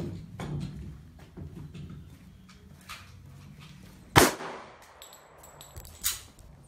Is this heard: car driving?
no